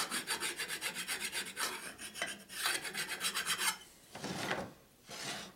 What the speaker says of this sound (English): going to do some filing on it,